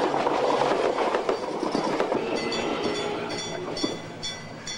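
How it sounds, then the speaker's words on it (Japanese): A train rumbles past close by over a railway crossing, loud and heavy, then fades into rattling and a high metallic squeal as the cars roll on. "そこの踏切のところを電車がガーンと通ったから"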